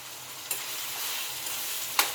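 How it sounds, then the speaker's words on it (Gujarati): Tomatoes softening in a hot pan with salt for a Punjabi-style cashew paneer curry, giving a steady bright sizzle broken by two sharp scraping stirs, close and without talk. "આ ટમેટાને પણ આપણે એકદમ સોફ્ટ થાય ત્યાં સુધી ચડવા દેવાના છે"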